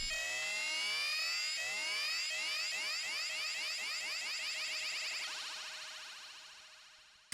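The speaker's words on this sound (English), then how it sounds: "I added this sound I got from a snare Jordan kit from Jake One. It's kind of like a riser ARP synth kind of thing." A rising arpeggiated synth riser from a snare drum kit, bright repeating notes climbing in pitch over a steady held tone, panning side to side between the ears before fading out over several seconds, with no voices.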